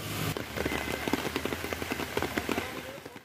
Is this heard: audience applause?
no